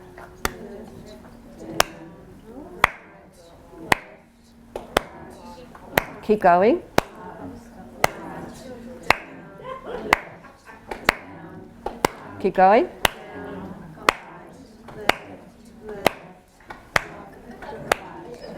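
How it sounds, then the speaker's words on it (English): A group claps in steady rhythmic rounds that gradually quicken during a talk on visual issues in Fragile X. The claps are sharp and evenly spaced, and a speaker's voice comes between them. "I'm going to go a little bit faster with my clapping"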